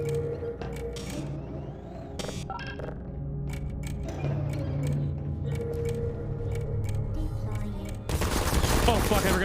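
Turrets in Portal firing rapid bursts of shots, crisp repeated cracks coming in irregular clusters with quieter gaps between, ending in a louder wash of noise.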